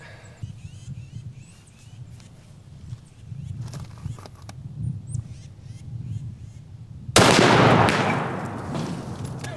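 A .50 caliber ball round fires at a cheap Temu Level IV rifle plate on body armor about 50 yards away, a sudden loud boom that cuts in after quieter outdoor rustling and then rolls off into a sustained roar.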